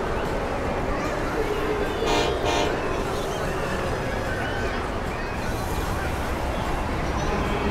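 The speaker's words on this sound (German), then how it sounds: "das ist der laute Bahnhof" Busy railway station in the Transport Fever simulation game: a dense, steady wash of train rumble with a brief horn-like toot partway through, constant and fairly loud, with voices under it.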